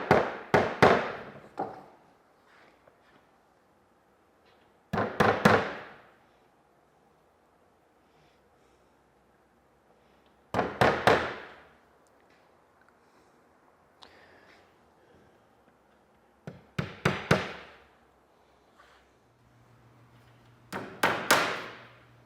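Three-penny finishing nails driven into the spiled points of a wooden boat's garboard plank during carvel planking: short clusters of sharp, close hammer taps in five separate bursts with quiet pauses between.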